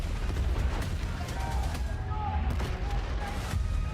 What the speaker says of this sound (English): Returning gunfire in the streets of Cairo.